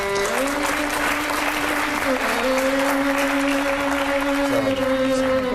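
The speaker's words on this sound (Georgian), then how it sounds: "აპლოდისმენტები." A crowd applauds loudly and continuously at a live comedy show, with a sustained tone running through the clapping throughout.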